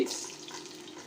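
Garlic dropped into hot soybean oil in a pan, a close hiss of sizzling that starts strong and eases slightly as it settles, with no voices.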